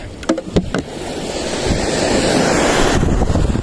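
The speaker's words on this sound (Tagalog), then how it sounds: "Dito yung alon." Waves break and wash at a river mouth in a steady, loud roar of surf, with wind buffeting the microphone and a few sharper splashes near the start.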